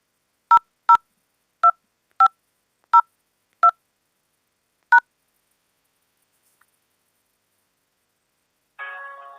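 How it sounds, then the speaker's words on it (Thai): Seven DTMF keypad tones sound on a telephone line, spaced unevenly over about five seconds as a six-digit ATM PIN and pound sign are entered on an automated bank balance line, followed by a short burst of line noise. "กรุณากด รหัส ATM คู่บัตรหกหลัก ตามด้วยเครื่องหมายสี่เหลี่ยม"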